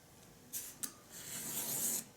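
A scalpel drawn by hand through paper to cut strips, giving short raspy scrapes followed by a longer, louder rubbing stroke, close by with no talking.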